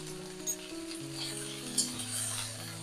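Okra with salt sizzling steadily as it fries in a pan, a continuous close crackle with a couple of brief louder spatters and no talk.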